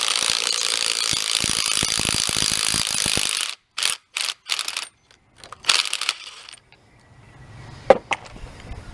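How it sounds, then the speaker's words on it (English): Close, loud ratcheting clicks come off a nut on a Ford 9-inch differential yoke, first a long continuous run and then several short bursts, ending in a few scattered metallic clanks. "So now what we're going to do is take this nut back off."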